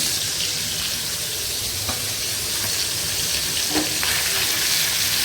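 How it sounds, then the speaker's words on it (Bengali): Fish sizzles steadily in hot oil, close by, with a constant hiss broken by a few sharper crackles and pops. "এখানে যে মাছটা ভাজতে দিয়ে দিচ্ছি"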